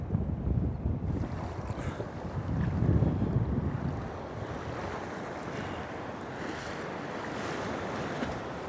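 Ocean surf breaks and washes steadily along Almonta Beach where salmon are fished from the shore, with wind buffeting the microphone throughout and a louder surge of waves near the start; no voices.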